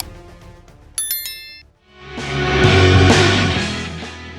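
A bright, short notification bell dings once, like a bicycle bell, after a quiet opening; a loud, rising swell of sound follows and fills the rest.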